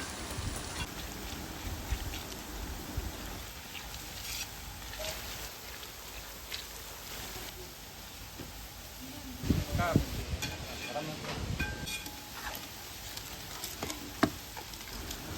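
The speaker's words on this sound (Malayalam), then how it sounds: "അതിട്ട് നല്ലപോലെ മൂപ്പിച്ചെടുക്കണം ഗോൾഡൻ കളർ ആവുന്ന വരെ നമുക്കൊന്ന് ഇളക്കി കൊടുത്ത് വേവിക്കാം" Sliced onions frying in a pan for wedding chicken biryani, a soft steady sizzle with occasional scrapes and taps as they are stirred, faint and close.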